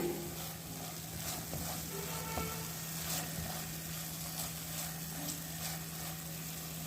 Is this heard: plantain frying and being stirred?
yes